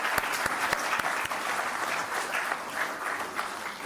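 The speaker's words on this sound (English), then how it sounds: "Give a huge round of applause for our sponsors," A crowd claps for sponsors at a women's conference, a dense burst of applause with a few sharp individual claps standing out near the front, continuous and fairly loud.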